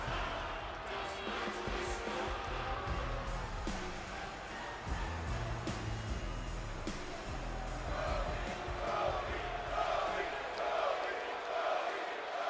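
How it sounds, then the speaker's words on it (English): A capacity arena crowd in the WWE 2K24 video game, set in the Nationwide Arena in Columbus, Ohio, keeps up a dense, steady roar of cheering and whooping, with thuds and swells rising toward the end. "Certainly this capacity crowd here in the Nationwide Arena in Columbus, Ohio, firmly behind the new World Heavyweight Champion, Cody Rhodes"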